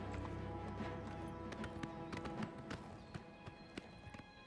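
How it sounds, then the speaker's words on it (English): Horse hooves clip-clop in a mountain-climbing stretch of The Elder Scrolls IV: Oblivion Remaster, a brisk run of taps over game music and ambience, with a few sharper, louder hoofbeats near the end. "Come on, mountain horse."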